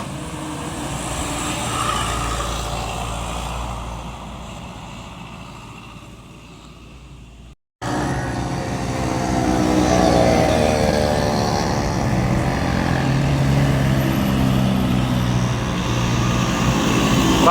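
Busy afternoon traffic on the Cijatem road in Sukanagara, with cars, motorcycles and trucks rolling past in a continuous loud wash. Engines swell and fade as vehicles pass close by, broken by a brief dropout midway, with no talk.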